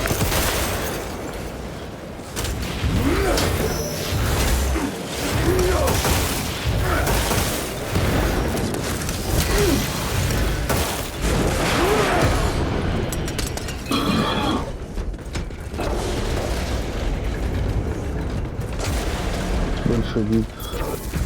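Repeated grenade blasts and gunfire boom through a battle in Warhammer 40,000: Space Marine 2, loud and continuous, with grunts and voices mixed into the din.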